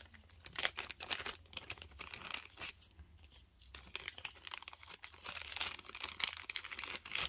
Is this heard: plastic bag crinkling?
yes